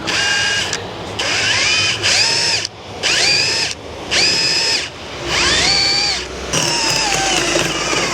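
A power drill drills through a wall in repeated bursts, about six short runs with brief pauses between, loud and close, pitch rising as the motor spins up.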